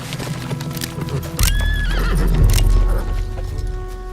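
Horses ride in close by, hooves clip-clopping steadily beneath a loud, rising neigh, with the trotting growing heavier as the riders arrive.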